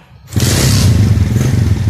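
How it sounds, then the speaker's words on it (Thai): A motorcycle with an automatic clutch fires up after a brief quiet moment, then runs at a steady, throbbing idle close by. "เครื่องยนต์ติดแล้วนะครับ"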